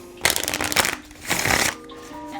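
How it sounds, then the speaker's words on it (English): Two quick riffle shuffles of playing cards, each a brisk fluttering rattle lasting about half a second, close up with a short pause between. "do a riffle shuffle from that break"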